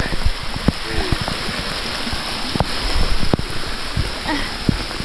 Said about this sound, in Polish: Mamy powódź błyskawiczna.